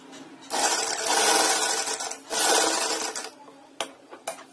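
Sewing machine stitching a fabric sleeve, running in two long, loud whirring bursts with a short pause between, then a few brief taps at the end.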